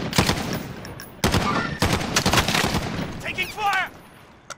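Repeated gunfire in the military shooter game Squad, sharp cracks and bursts in quick succession with several loud shots up close, layered with overlapping voices and a brief whistling or pinging effect near the end.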